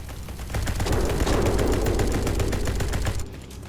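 Rapid, sustained automatic gunfire in a video game, a dense rattling burst lasting several seconds before cutting off abruptly.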